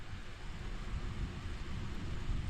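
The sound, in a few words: thunder during rain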